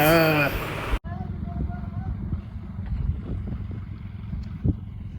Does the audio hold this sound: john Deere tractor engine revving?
yes